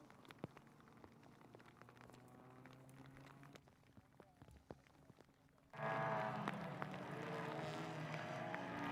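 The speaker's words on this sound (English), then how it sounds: "here's when the rain was starting" Rain begins to fall on the track during a car race, a patter of scattered drops joined by a sudden louder wash of rain and engine noise in the second half, with someone speaking under it.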